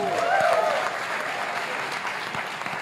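A church congregation claps for a pastor, steady dense applause spread through a large room. A brief rising tone sounds near the start.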